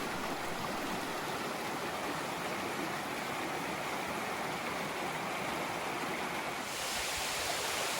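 Steady rushing water of a waterfall in the North Georgia mountains, a continuous broadband roar that stays even and fairly close throughout, with no voices.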